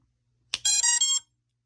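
A drone's electronic speed controller powers up with a short burst of clear, high-pitched electronic beeps: one quick click, then three stepped tones run together over about half a second, close and loud, with silence on either side.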